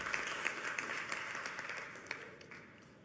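Faint, distant applause from a seminar audience in Venezuela, a scattered patter of claps that gradually thins out over a few seconds.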